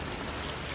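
Steady rain pours down outdoors on a stormy night, a dense, even hiss of drops on surfaces with no pauses, no voices and no thunder, close and constant throughout.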